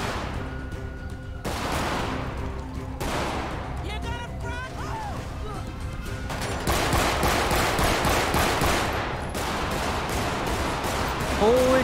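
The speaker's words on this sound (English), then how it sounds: "He's shooting at me." Gunfire in a GTA V police-mod shootout, bursts of rapid shots and heavy firing that keep building, with someone speaking over the chaos.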